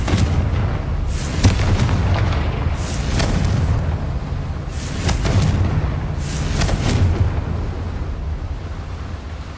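Confringo fire spell explosions in Hogwarts Legacy, a video game: repeated deep booming blasts roughly every one to two seconds over a continuous roaring rumble, loud and close.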